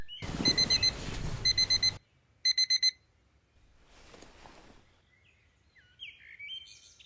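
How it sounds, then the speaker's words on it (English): An alarm clock rings loudly in rapid electronic beeping bursts, stops, sounds again in a shorter burst, then goes quiet except for faint rustling and distant chirps. "Shut that alarm off."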